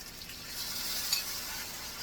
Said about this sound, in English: We're gonna saute it and cook it up